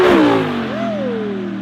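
An Audi R8 V10 MKII with an ARMYTRIX titanium valvetronic exhaust, valves open, roars past in a brief flyby, the pitch sweeping down after a loud close pass.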